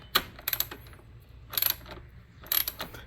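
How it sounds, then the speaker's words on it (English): Ratcheting wrench backing out 10 mm bolts on a coolant overflow tank, in three quick bursts of clicking separated by pauses, close and fairly quiet. "we're going to remove these bolts"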